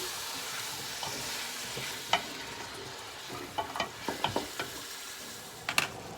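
Carrots and other vegetables cooking over medium heat for cabbage and rice soup, producing a low, soft sizzle with a handful of scattered light clinks and taps toward the end.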